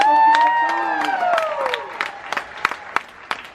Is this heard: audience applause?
yes